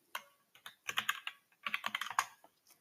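Quiet, close typing on a computer keyboard in rapid bursts of clicking keystrokes, separated by short pauses.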